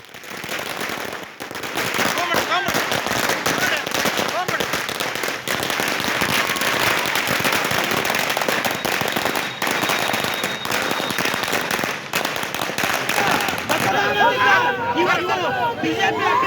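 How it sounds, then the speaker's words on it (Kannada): Firecrackers burst in a dense, unbroken barrage at a BJP street celebration of the NDA's Bihar election win, loud and close, with crowd babble and voices running underneath. "ಸಿಹಿ ಹಂಚೋದ್ರ ಮೂಲಕ ಪಟಾಕಿ ಸಿಡಿಸೋದ್ರ ಮೂಲಕ ಸಂಭ್ರಮವನ್ನ ಆಚರಿಸ್ತಾ ಇರೋದು"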